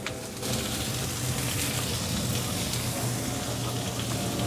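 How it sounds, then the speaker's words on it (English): Loud, dense sizzling and crackling from hot link sausages with peppers and onions frying on a hot grill, steady and close throughout after a brief quieter start. "just enjoy that sizzle for a minute"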